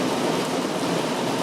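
Heavy rain pours down in a dense, even hiss, loud and unbroken from start to finish, with no voices.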